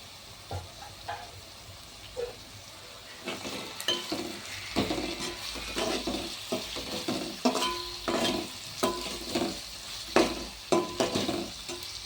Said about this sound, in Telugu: వీటిని మరి కొంచెం సేపు ఆయిల్లో ఫ్రై చేసుకోవాలి